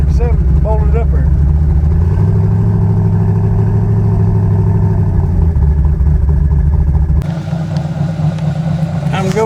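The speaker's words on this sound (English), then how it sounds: "do a little long street dyno on the Nova for the first time in a while, so sounding good." A turbocharged big-block Chevy Nova engine rumbles loudly and close with a deep, throbbing idle. Near the end the tone shifts abruptly as the engine note changes.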